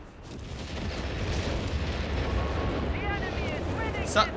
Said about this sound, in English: Some heavy artillery is coming in somewhere